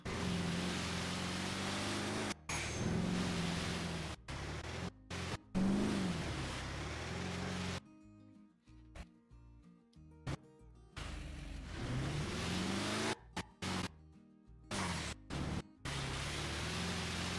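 A stolen pickup truck's engine in a role-play video game revs and roars in bursts, broken by sharp cuts and a quieter stretch in the middle, loud and close with no talking.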